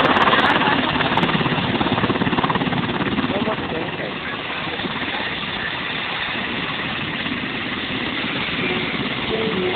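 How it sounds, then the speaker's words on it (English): A Black Hawk helicopter at the Avalon air show makes a steady, loud rotor and engine drone throughout. A commentator speaks over it. "the Black Hawk helicopters must remain well clear of any possible threat"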